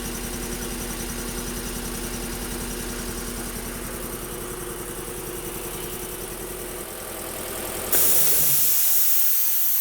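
An 80-gallon air compressor runs steadily after start-up, a loud continuous motor drone with hiss that holds for most of the stretch, then shifts to a sharp high hiss near the end.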